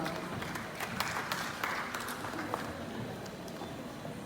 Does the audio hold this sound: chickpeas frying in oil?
no